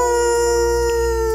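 A werewolf's long, sustained howl in an animated setting, loud and steady throughout with a tonal wail layered over a continuous background.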